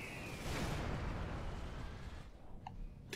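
Bombs from bombers burst on land bots in the strategy game Supreme Commander, heavy rumbling explosions overlapping into a continuous roar before thinning out, with a few small pops near the end.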